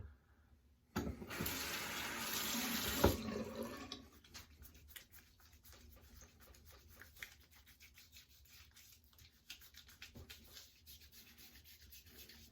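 A shaving brush is rubbed briskly on a Stirling Soap Company Tsuka shave soap to build lather, first a loud, close scrubbing swish for about three seconds, then quieter intermittent brushing and dabbing strokes.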